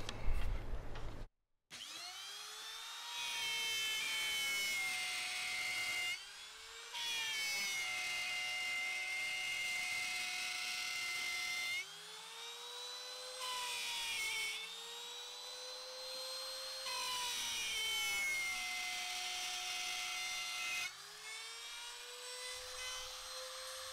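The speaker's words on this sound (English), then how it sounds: "It's only a small cutter, it's only a small machine." A small cutter machine cutting wooden cradle rounds for paint pouring, giving off a loud, close, steady whine whose pitch sags and recovers as it bites, broken by a few short pauses.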